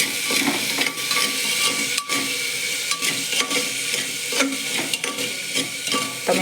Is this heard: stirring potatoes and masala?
yes